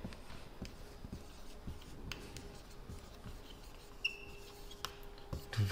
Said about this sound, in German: Ich schreibe das einfach mal dahin.